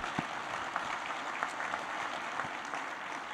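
Moderately quiet audience applause at the Norman Award ceremony during the MUFSO restaurant industry conference, an even patter of many hands with a few sharper individual claps standing out.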